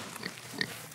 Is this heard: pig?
yes